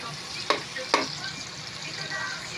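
Onions frying in margarine in a pan, giving a soft, faint sizzle with two sharp clinks of a utensil early on.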